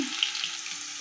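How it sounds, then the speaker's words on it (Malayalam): Mustard seeds and onion sizzle and crackle in hot oil in a pan while a Kerala mackerel curry is prepared, a steady close hiss with a few small pops over about a second. "ഇച്ചിരി കടുകിട്ട് പൊട്ടിക്കുവാണ് ഉള്ളിയും കൂടി ഇട്ട്"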